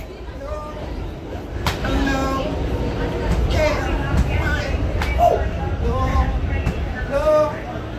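A subway train rides toward Coney Island with a continuous rumbling roar and squealing wheel tones, while people talk and chatter over the noise.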